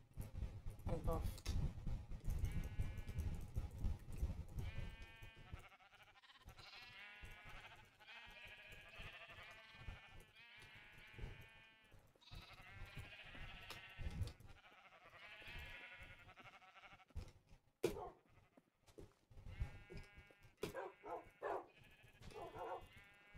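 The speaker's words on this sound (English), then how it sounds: "let's spawn some sheep and wolf" Sheep bleating in the video game Minecraft, repeated short wavering bleats that come and go over game sounds, with people talking and laughing under and between them.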